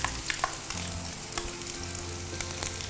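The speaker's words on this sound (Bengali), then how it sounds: "এখন দিচ্ছি পেঁয়াজের কুচি।" Chopped onion frying in a pan, a close, busy crackling sizzle with quick stirring scrapes and small pops over a low steady hum.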